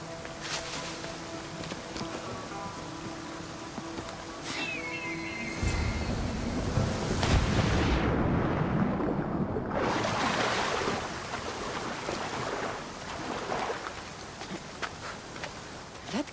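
Roaring waterfall in Assassin's Creed Odyssey, a steady broadband rush of falling water that swells louder midway, with faint game ambience beneath and no talk.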